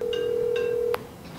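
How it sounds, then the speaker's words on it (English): An outgoing phone call rings through an Apple Watch speaker, a steady, loud electronic ring tone that cuts off abruptly near the end, followed by quieter room noise. "It's ringing. Let's see if they answer."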